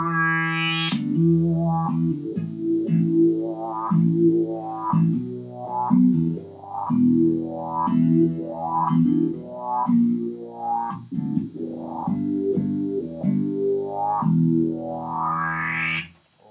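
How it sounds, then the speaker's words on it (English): Electric guitar played through a pedalboard's Black Star distortion channel and a SynthWah effect: a run of loud, gritty, filtered notes with rising wah sweeps, played rhythmically and alone. "the black star, which flicks on the distortion channel, and the SynthWah, which gets some pretty interesting effects like such"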